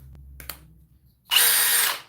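A Milwaukee 2904 hammer drill on a fully charged 6 amp hour battery spins up after a couple of soft handling clicks, then runs loud and steady for under a second before winding down.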